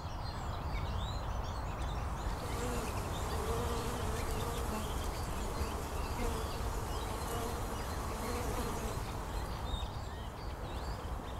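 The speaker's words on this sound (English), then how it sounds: "And beneath this is where the colonies are living, the bees are living." Dense, steady buzzing of a honey bee colony fills the space, close and continuous, with individual bees droning past.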